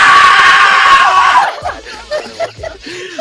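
A person lets out a loud, sustained, strained scream lasting over a second, followed by bursts of excited talking with short vocal outbursts.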